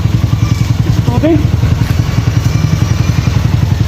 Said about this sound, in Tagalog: Ano yung motor yan?